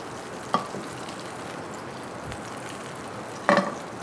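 Butter melts in a pan just used for pork medallions, giving a continuous bright sizzle with two sharp clinks of a utensil against the pan.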